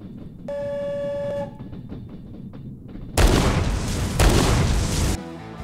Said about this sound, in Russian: Сюда на всех парах летит э, поезд, который сейчас немножко...